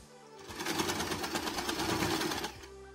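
A sewing machine stitches fabric and elastic for a cotton bow headband, a close steady rapid whirring run of needle strokes lasting about two seconds before stopping.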